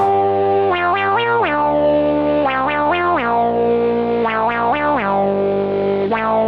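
A Minimoog acid lead synth, run through an external effects unit, plays a funky riff of gliding, distorted notes with pitch swoops, loud and upfront with no talking.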